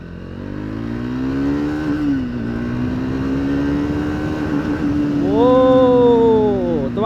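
A 2025 Triumph Speed 400 single-cylinder motorcycle accelerates hard on the road, its engine note climbing steadily through the gears with a loud, close rising howl and a sharp upshift near the end.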